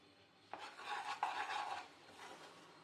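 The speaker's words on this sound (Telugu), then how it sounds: "ఇలా 15 మినిట్స్ పాటు మీడియం ఫ్లేమ్ మీద పెట్టి దోరగా వేయించుకోవాలి" A spoon works through besan flour roasting in ghee in a pan over a medium flame, making soft, repeated scraping and stirring strokes. The sound is faint and close, with no voices.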